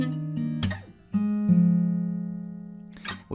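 Fingerstyle acoustic guitar picking the opening bar of a song, sustained bass notes and plucked chords ringing close and clear, a few sharp string attacks, no voice over it.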